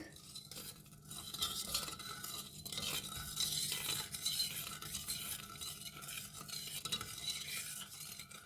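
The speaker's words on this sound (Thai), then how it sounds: "คนไปเรื่อยๆค่ะจนกว่ามันจะละลายนะคะ" Agar powder stirred in a pot until it dissolves, a continuous close swishing and scraping of a spoon against the pot with occasional light clinks, steady and moderately loud.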